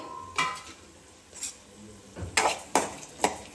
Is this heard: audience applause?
no